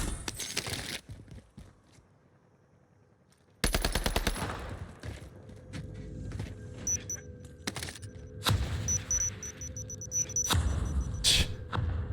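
Bursts of NZ submachine gun fire in Warzone, rapid automatic volleys after a brief quiet stretch, with several sharp sustained strings of shots and mechanical clatter between them.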